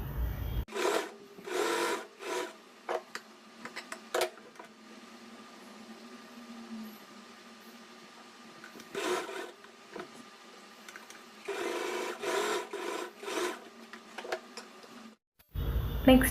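A sewing machine stitching a princess-cut, boat-neck blouse runs in short, close bursts of rapid mechanical whirring, with a quiet stretch in between and a sudden stop near the end.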